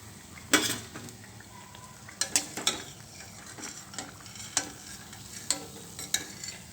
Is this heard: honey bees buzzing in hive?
no